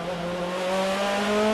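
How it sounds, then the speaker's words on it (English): Mortara's 2011 DTM race car with a stick-operated sequential gearbox drones loudly at the Nurburgring, its engine note holding and gently shifting pitch throughout. "just listen to that going down a gearbox, Mortara."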